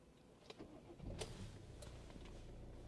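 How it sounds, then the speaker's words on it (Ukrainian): A 2012 Hyundai ix35 with a 1.7 CRDi diesel engine starts up with a brief crank, then settles into a steady, low idle heard fairly close, with a few faint clicks over it and no talk. "Давайте запустимо двигун даного автомобіля"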